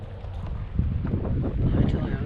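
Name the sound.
strong wind on the water while kayaking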